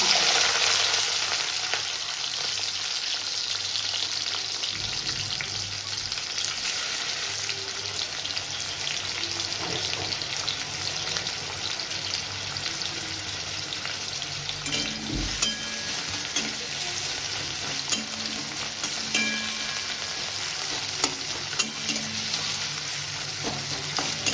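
Sliced onions frying in white oil in a wok, a steady, dense sizzle that runs unbroken throughout, with occasional stirring scrapes and faint clinks of a utensil against the pan.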